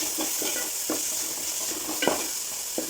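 Sliced onions sauté in a pan for Kerala-style onion rice, giving a steady sizzle broken by several soft, near scrapes of the stirring spoon, with no voices.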